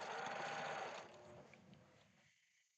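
A sewing machine stitching down a fabric seam on a quilt, running with a steady whirring buzz for about two seconds before slowing and stopping.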